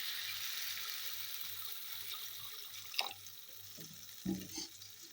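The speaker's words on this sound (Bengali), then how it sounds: "একটু পানি দিয়ে দিই, একটু পানি দিয়ে দিলে ভালো হয়।" Water is added to a fish curry of sea fish, giving a faint trickling pour with a few small splashes and clinks in a quiet kitchen, with a low steady hum beneath.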